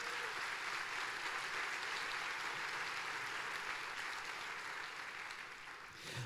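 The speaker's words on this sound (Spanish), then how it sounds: "démosle un aplauso fuerte a Dios" Church congregation applauding together, a dense, steady wash of clapping that stays loud and even for several seconds before thinning slightly at the end.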